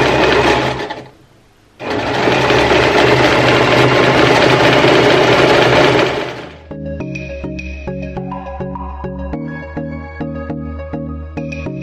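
A sewing machine zigzag-stitches stretched elastic on an off-shoulder top, running loud and steady in a long burst after a brief pause, then shifting to a slower rhythmic chugging of individual stitches.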